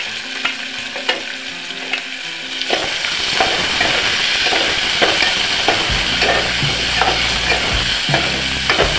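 Finely chopped onion and potatoes fry in a pan for veg pulao: a loud, continuous sizzle broken by regular scraping stir strokes, close by and with no talking.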